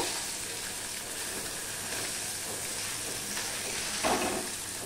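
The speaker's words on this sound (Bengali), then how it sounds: "এবারে এইভাবে মাছগুলোকে আমি ভেজে নেব।" Baspata fish sizzle gently in hot oil in a pan, a soft, steady hiss with faint crackles and a brief stir or splash near the end, fairly quiet and without talk.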